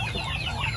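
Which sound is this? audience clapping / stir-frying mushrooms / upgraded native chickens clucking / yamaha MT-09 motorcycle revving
upgraded native chickens clucking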